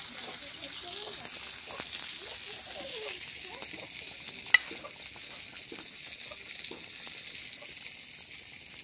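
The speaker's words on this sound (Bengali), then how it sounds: "আরও কিছু মাছ ভেজে নিলাম, চুনো মাছ, রুই মাছের মাথা, বাটা মাছ, এগুলো ভেজে রেখে দেবো" Small fish, rohu fish heads and bata fish frying in a pan, a soft continuous sizzle with light stirring and one sharp clink partway through, heard fairly faint and steady.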